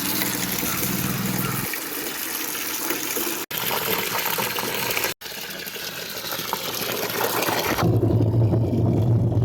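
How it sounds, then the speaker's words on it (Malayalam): Steady rushing water pours loudly and continuously from a tap filling a bucket, with a couple of brief dropouts and a deeper tone near the end. "ടാപ്പ് അങ്ങോട്ട് ഓണാക്കിയിട്ട് ഫുള്ള് വെള്ളം നിറയ്ക്കുക"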